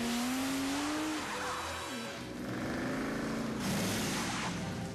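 Cars race through a chase scene from the James Bond film Die Another Day, with quiet engine revving and drawn-out, wavering tire squeals that fade and return over a few seconds.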